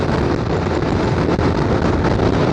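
Heavy wind buffeting a microphone while riding at 70 mph in cold weather, a loud continuous roaring rush with no pauses.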